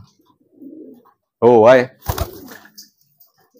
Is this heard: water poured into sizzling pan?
no